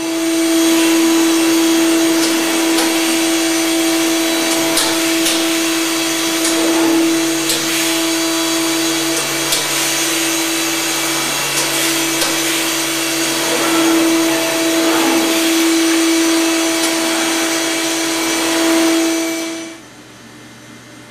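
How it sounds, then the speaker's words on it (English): A CNC panel machine running an air cut, its spindle giving off a steady high whine and hiss with faint clicks, loud and continuous until it winds down and stops near the end. "This view shows an air cut on our machine designed for panels."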